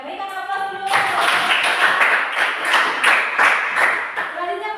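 Classroom applause from a group of students, a dense patter of claps building quickly and sustained at steady loudness with a few voices underneath.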